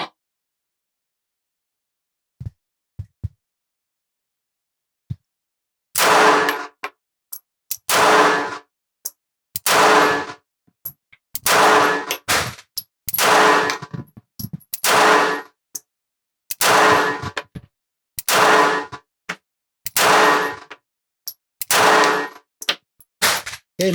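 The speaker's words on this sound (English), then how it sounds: "For our LCP Max, we're going to shoot 10-round magazines." Ruger LCP Max pistol shots fired through a 10-round magazine, ten loud, sharp reports at steady intervals of about two seconds, each with a short ringing decay, preceded by a few faint clicks.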